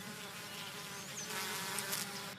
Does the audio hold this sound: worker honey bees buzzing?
yes